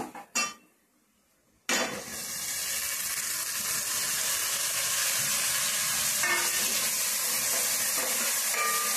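Onions and tomatoes for a mushroom curry fry in a pan, opening with a few clinks and a brief quiet gap, then a sudden, steady, loud sizzle with occasional stirring scrapes.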